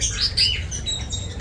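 Lovebirds chirping at an outdoor bird market in Baghdad, with dense overlapping high tweets and squeaks close by over a low crowd rumble.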